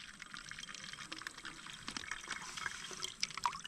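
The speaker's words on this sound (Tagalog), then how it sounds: "Ere po, tubig galing Mount Banahaw." Spring water from small springs on Mount Banahaw trickles and pours through a pipe, a quiet, irregular splashing with scattered drips.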